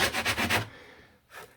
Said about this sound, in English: as you can see, it's sanding like foam as well